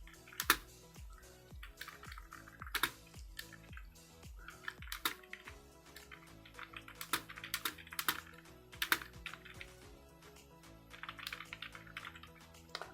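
Someone types on a computer keyboard with quiet, irregular clusters of key clicks that come in bursts, with no talking.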